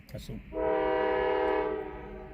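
After a brief voice, a passing northbound freight train's horn sounds one long, steady, multi-tone blast, loud and sustained before fading slightly at the end, the train moving slowly up a grade.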